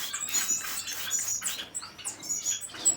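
Small bird splashing and fluttering in sprayed water, with rapid soft patter and flapping plus a few high chirps, close and fairly quiet.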